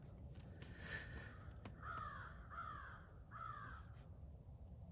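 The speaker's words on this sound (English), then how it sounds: "the crows are leaving" Crows cawing outdoors, a run of three drawn-out harsh caws in a steady rhythm after a fainter earlier call, moderately distant over a low background rumble.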